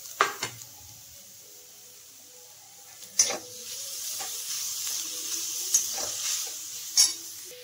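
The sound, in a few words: grated paneer being stirred and fried for paratha filling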